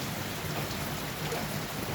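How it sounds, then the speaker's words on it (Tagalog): Rain falls after a long dry spell, a steady broadband hiss of drops on surfaces that is even and continuous, with no voices. "Nakaulan na rin sa wakas"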